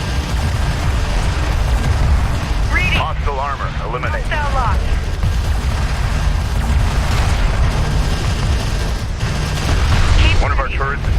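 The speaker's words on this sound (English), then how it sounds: "One of our turrets is taking fire." Gunfire and explosions from the real-time strategy game Homeworld: Deserts of Kharak, a dense, continuous rumble of combat with booms throughout and bursts of radio-style unit voices over the top.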